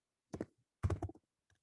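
Keys on an American-layout computer keyboard are tapped in short bursts, a few quick clustered clicks, a pause, then a longer run and one faint final tap, close and quiet.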